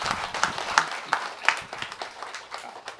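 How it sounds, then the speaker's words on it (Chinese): Scattered, sparse clapping from a small audience at a photography award gathering, honoring Thomas for a photo that won a special prize; individual hand claps stand out unevenly over a murmuring room. "热烈的掌声。"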